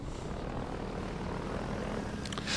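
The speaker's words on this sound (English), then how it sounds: "you can still hear the chopper out there" A helicopter in the video game Half-Life 2 drones outside, a steady loud rotor and engine rumble with no talking.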